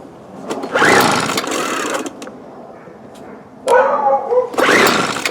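A 1997 Weed Eater BV 1800 24cc leaf blower engine buzzes in uneven bursts, revving up, dropping off and surging again, with a voice talking alongside.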